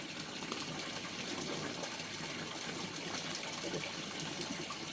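Water runs faintly and steadily while a small aquarium water-test tube is rinsed out, a soft continuous splashing trickle with no voices.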